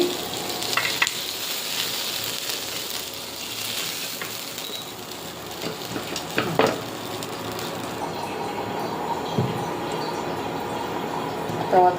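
Gorai fish frying in oil, a loud, steady sizzle and crackle close by, with occasional clatter as the pieces are moved and more fish goes into the pan.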